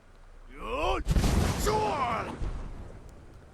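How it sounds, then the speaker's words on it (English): Fire Breath dragon shout in Skyrim, a deep shouted voice followed by a roaring whoosh of flame that swells and fades over a couple of seconds. "strike me with the fire of your Thum. Fire breath it is."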